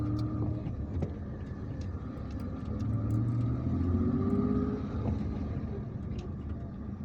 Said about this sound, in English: Usually there is traffic here.